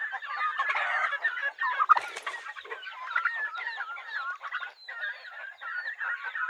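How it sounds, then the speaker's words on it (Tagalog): Farm chicks and fowl, including a rooster and week-old chicks, chirping and clucking continuously up close, with overlapping high peeps and a louder squawk partway through. "may mga sisiw tayo dito"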